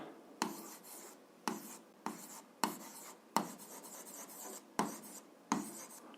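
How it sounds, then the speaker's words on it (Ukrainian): Handwriting a formula for a grade 7 algebra exercise, pen scratching across paper in close, distinct strokes separated by short pauses, about eight strokes, no speech. "Давайте це запишемо."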